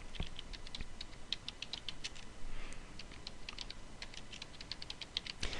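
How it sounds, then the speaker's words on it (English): Fast, irregular typing on a computer keyboard, close and fairly quiet, with crisp individual key clicks in quick bursts and short pauses, no voice. "So pardon me, but I gotta type here."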